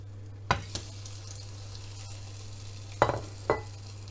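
Egg-dipped bread toasts frying in a covered pan on medium heat give a steady, soft sizzle over a constant low hum, with a few sharp clinks at intervals.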